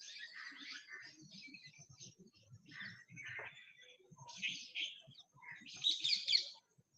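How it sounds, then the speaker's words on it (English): A bird calls in a string of high, hooting and chirping notes, owl-like and irregularly spaced, heard outdoors at moderate distance with a faint low murmur underneath. "Yeah, it's a bird or something."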